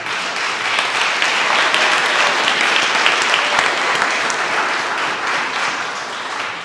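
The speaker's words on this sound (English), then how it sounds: "So stand up, please, and receive a round of applause for what you do." A crowd at a community meeting on city relief funds breaks into loud, sustained applause, dense clapping filling the room evenly for several seconds with no break.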